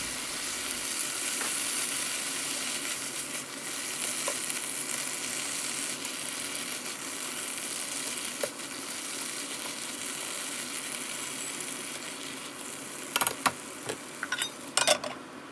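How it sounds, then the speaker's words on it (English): Spinach and sweet corn sauté in a pan with a steady, even sizzle throughout, close by, and a few sharp clinks of utensils against the pan near the end. "And when the spinach is slightly cooked, add the sweet corn."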